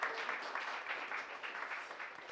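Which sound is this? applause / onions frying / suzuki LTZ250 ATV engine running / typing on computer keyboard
applause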